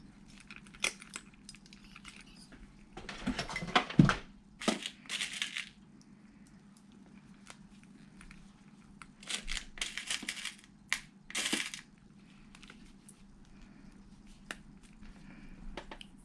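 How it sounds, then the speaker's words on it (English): A metal rivet is set into a fabric bag strap, producing scattered sharp taps and clicks with a couple of louder clustered bursts of knocking and handling, close and quiet, with no talking. "I will be installing a rivet here and trimming off the excess."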